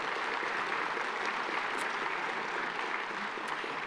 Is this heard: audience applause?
yes